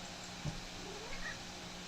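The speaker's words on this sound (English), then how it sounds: "I don't know if you can hear Beans purring and meowing." A cat gives a soft, brief meow against a quiet background hum, followed by faint small sounds.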